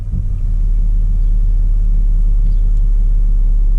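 Chevy Impala 3.5 engine idling steadily with a slight intermittent misfire, a close, loud, continuous low rumble with no talk over it.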